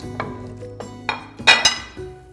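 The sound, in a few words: marinated shrimp put into Ropot cooking pot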